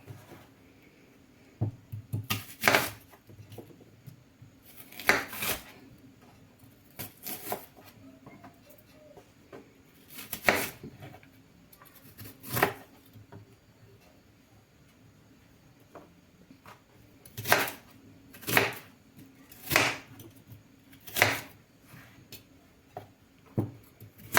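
A knife chops onion and carrot repeatedly on a cutting board, sharp isolated knocks spaced irregularly, sometimes in quick pairs, over a quiet room hum.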